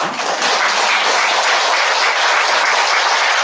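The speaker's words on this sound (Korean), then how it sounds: "이때 여러분이 박수를 한번 치시면" Sustained, dense applause from a lecture audience fills the room, steady and loud from start to finish with no talking over it.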